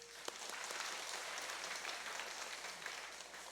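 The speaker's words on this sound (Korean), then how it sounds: "박수 한번 주세요" A church congregation applauds during a Sunday worship service in Gwangju, a steady, even wash of clapping that runs through the whole stretch at moderate distance, with no voices over it.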